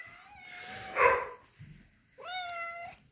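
A cat meows twice outdoors in cold weather, a long drawn-out call followed after a pause by a second, shorter rising meow, both fairly close and clear, with faint background noise between them.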